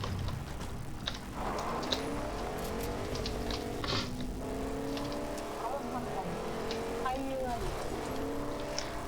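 A car in Fortnite drives along with a steady, fairly quiet engine hum and shifting revs, punctuated by faint clicks and taps, while players chat over it.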